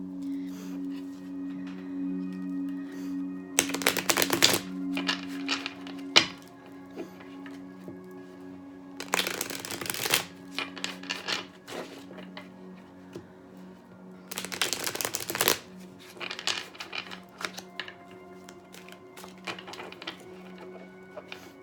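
Tarot cards are shuffled in three brisk bursts, riffling sharply up close, with a steady low hum and soft handling sounds between.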